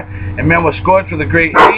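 A dog barks several times in quick succession nearby, its yips and woofs overlapping a man reading scripture aloud.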